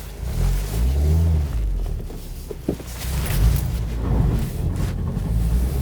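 A 2020 Mazda MX-5 RF engine accelerating on a cold, icy road, a deep steady rumbling drone heard from inside the car, swelling and easing with the throttle.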